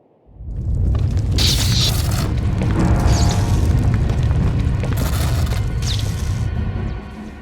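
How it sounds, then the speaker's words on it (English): A groundquake rolls through a Star Wars: The Old Republic scene, a deep, loud continuous rumble with crashing and grinding debris swelling in over seven seconds, with no voices. "That's the 5th groundquake since the Hutt's takeover."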